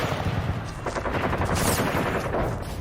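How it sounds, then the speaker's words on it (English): Army troops opening fire on a crowd, rapid dense bursts of gunfire crackling continuously throughout, fairly loud and close, no speech. "the army opened fire on the mob"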